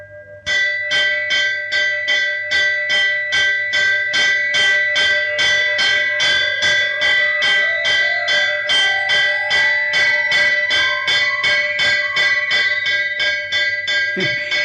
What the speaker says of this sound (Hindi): घंटी बजाकर भगवान को तार भेजे अर्जुन